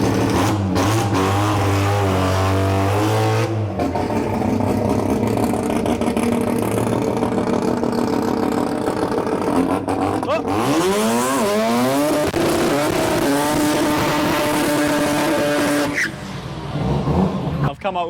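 A race car roars past at a drag racing event, its engine howling and rising and falling in pitch as it passes, loud and continuous under excited commentary.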